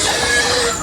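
Chickens on a farm in a coconut grove: a brief, loud burst of clucking fowl voices, close by, mixed with steady background noise.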